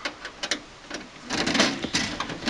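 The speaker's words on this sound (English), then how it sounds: "and remove this panel here." A computer tower's side panel is worked loose after a small Torx screw is undone, giving a run of light plastic-and-metal clicks and taps, then a louder scraping, rattling slide as the panel comes away, close and alone.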